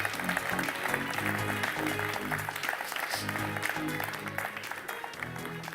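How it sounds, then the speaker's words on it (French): Studio audience on a French television show applauds loudly and steadily throughout, a dense wash of clapping over a low rhythmic musical backing. "On peut les applaudir bien fort."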